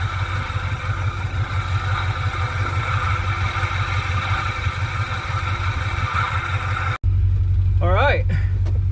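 A Ford Fairlane's engine runs steadily up close with a low, constant rumble and mechanical clatter. Near the end it cuts to a louder, rougher engine note, and a brief voice is heard over it.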